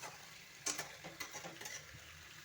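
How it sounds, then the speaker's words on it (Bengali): Jackfruit curry sautéing in a covered pan, a quiet low sizzle with a few light taps and clicks of a lid or spoon scattered through, faint and close. "খুব ভালো করে কষিয়ে নেব, ঢেকে ঢেকে কিছুক্ষণ কষিয়ে নেব"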